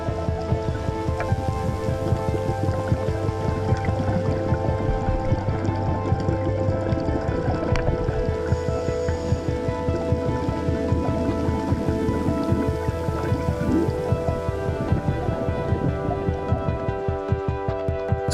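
A dive boat rides back over rough sea, its engine droning and throbbing steadily while water washes and slaps against the hull, continuous and fairly loud with no talk.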